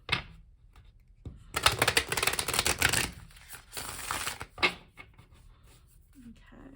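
A deck of tarot cards is riffled and shuffled close to the microphone, with bursts of rapid flapping and crisp slaps, a brief pause, then a final cut and tap of the cards.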